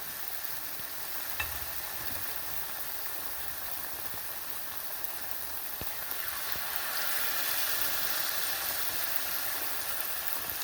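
Quiet, steady sizzling of saltfish fritters frying in hot oil in a big pot, a continuous crackling hiss that grows slightly louder toward the end.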